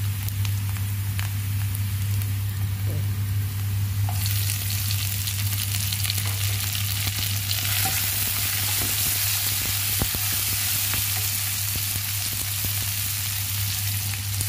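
Chili being stir-fried in a pan for a green bean and bird's eye chili stir-fry, a steady close sizzle with crackling oil and occasional stirring scrapes throughout, with no talking.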